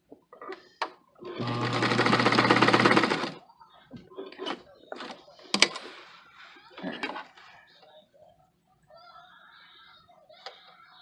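A vintage sewing machine stitches buttonholes in a single loud, close burst of rapid mechanical whirring lasting a couple of seconds, followed by scattered clicks and light handling knocks.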